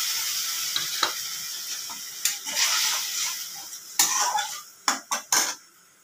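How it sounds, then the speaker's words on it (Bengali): A spice mix hits hot oil in a home kitchen pan, giving a continuous sizzle broken by sharp clinks and scrapes of a spoon stirring against the pan, with several louder clatters toward the end. "তেলটা গরম হয়ে গেছে। এবার আমি মশলাটা দিয়ে দিচ্ছি"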